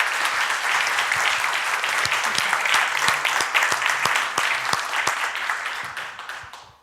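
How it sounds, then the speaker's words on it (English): Audience applause at the close of a morning learning and development breakfast briefing, steady dense clapping that holds for several seconds, then thins out and fades toward the end. "perhaps one final round of applause for Jane"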